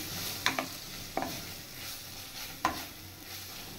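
Spoon stirring chilli and pepper powder into bitter gourd in a pan, a few sharp scraping strokes over a soft steady sizzle, close and fairly quiet.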